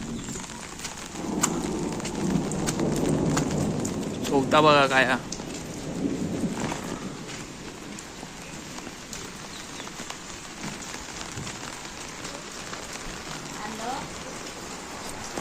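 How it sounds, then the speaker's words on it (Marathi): Rain falls steadily in a village during the first monsoon storm, a constant wash of patter with a brief chirp of a bird, while someone talks over it. "वाट पण भिजली पावसाने"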